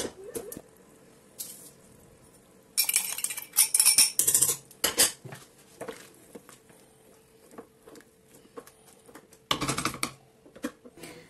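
Tunisian chorba with parsley, celery, harissa and frik stirred in a pot, heard as a few loud bursts of metal ladle clattering and scraping against the pot between quiet pauses.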